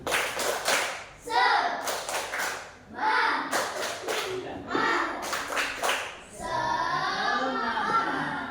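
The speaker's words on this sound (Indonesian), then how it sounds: "Oke, tepuk semangat." Students in a classroom perform a rhythmic spirit clap, sharp bursts of group clapping in a patterned beat separated by short gaps, with voices chanting along between the claps.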